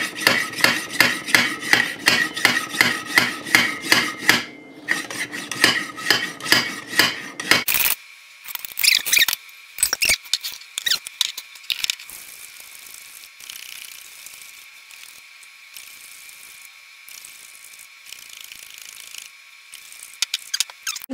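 Milk is frothed by repeatedly pumping a French press plunger, giving a quick rhythmic series of rasping strokes that slow and turn to scattered scraping and clinks, close up with no talking.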